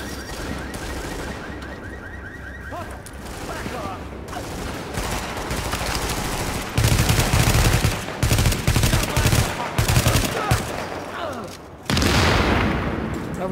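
Gunfire in The Division video game, with rapid bursts and sustained automatic fire growing louder and denser toward the end, mixed with a heavy blast and game effects.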